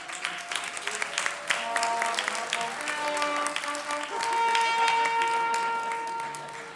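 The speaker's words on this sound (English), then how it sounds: "Let's give him a big round of applause" Audience applause at a Week of the Young Child event as the mayor comes to the podium, steady clapping throughout, overlaid by sustained trumpet notes playing a melody.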